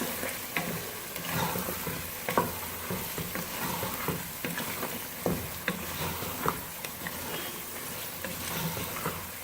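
Beef frying in onion, garlic and ginger paste, a steady close sizzle with frequent scraping stirs and soft knocks of the spoon against the pot.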